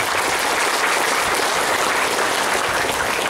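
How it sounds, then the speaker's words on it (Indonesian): Hundreds of students and parents at an Islamic boarding school clap together in a dense, loud, unbroken roar of applause that stays level throughout, with no voices audible over it. "antum lalui dengan tepuk tangan buat kalian semua"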